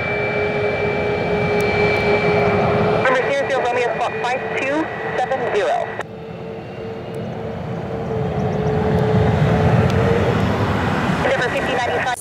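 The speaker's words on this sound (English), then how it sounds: "Southwest 540, it's our MAX 8 heading to St. Louis." Southwest Boeing 737 MAX 8 jet taking off, a loud continuous engine roar that builds and swells, heard over tower radio chatter and talk.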